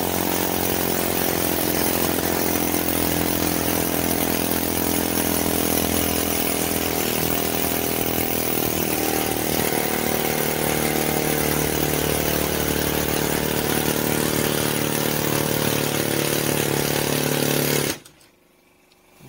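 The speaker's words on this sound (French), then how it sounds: "Là, j'ai monté un burin découpe-tôle. On va voir ce que ça donne." A 190 mm demolition hammer fitted with a sheet-cutting chisel runs as a loud, steady, buzzing chatter for about eighteen seconds, then cuts off abruptly near the end.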